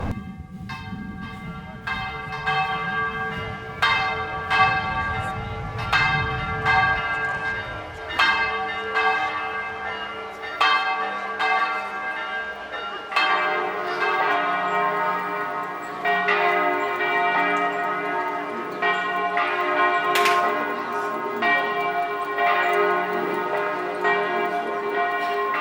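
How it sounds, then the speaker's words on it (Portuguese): Church bells ring in São João del Rei, Brazil, sounding a long sequence of repeated clangs with rich, lingering overtones that layer into a continuous, resonant peal. "O sino, ele acaba sendo a voz da igreja, né? Porque ele é que chama, ele chama os fiéis"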